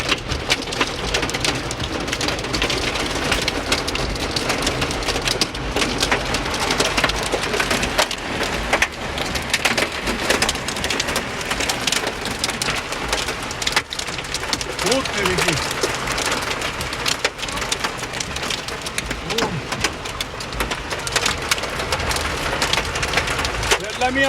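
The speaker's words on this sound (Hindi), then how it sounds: "मियाँ ओले मार रहे हैं भाई ओले।" Hailstones pelt a car in a dense, steady clatter of hard hits, with no gaps, close and loud, mixed with a rain-like hiss over the full length while voices talk underneath.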